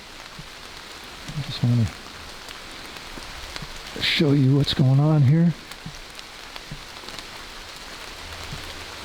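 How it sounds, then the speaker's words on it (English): Light rain patters steadily on the ground and foliage beside a tent in a backyard spot, a soft continuous hiss that runs under a man's speech throughout. "A bit of rain happening"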